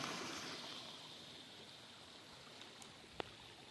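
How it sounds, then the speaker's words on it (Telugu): Water flowing outdoors near forest in Medak, Telangana, a faint steady rushing wash like a small stream, with a single soft click toward the end and no voices. "చూడండి నీళ్ళు ఎట్లా వస్తున్నాయి."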